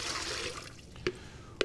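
Water splashes in a short pour into a container for sorbet syrup, a brief hissing stream followed by a couple of small drips and clinks, close and quiet.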